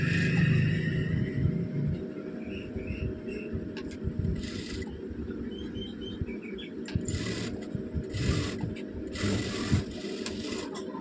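A sewing machine stitching along the edges of an aari work blouse, running continuously with a steady fast mechanical whir and needle chatter, close and prominent, with brief higher clatters at intervals.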